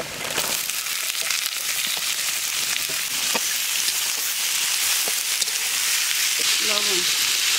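Potatoes and chopped onion fry in a pan with a loud, dense, continuous sizzle close up, and a brief voice comes in near the end.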